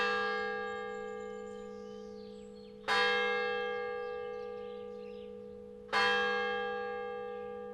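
The 1867 St. Peter bell at the church in Kirkwood rings in two loud, resonant strikes about three seconds apart, each leaving a long humming decay with no voices present.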